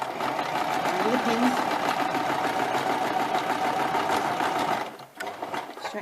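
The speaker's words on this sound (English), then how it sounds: "And go to your sewing machine again and sew straight down." Sewing machine stitching a straight seam on fabric, a steady continuous motor buzz with rapid needle chatter, close and loud, stopping abruptly near the end.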